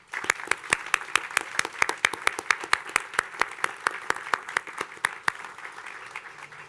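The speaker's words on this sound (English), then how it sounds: "Let's show our appreciation for all the award winners with another round of applause" An audience applauds award winners at a youth volunteer ceremony in Bloomington, a few sharp, close individual claps repeating steadily over several seconds against a quieter background.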